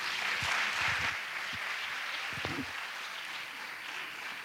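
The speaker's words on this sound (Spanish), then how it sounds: "así que un aplauso, por favor" Audience applause at a medical conference in a university auditorium, a moderate round of clapping heard from a distance, fading and thinning toward the end.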